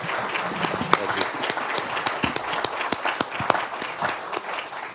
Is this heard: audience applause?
yes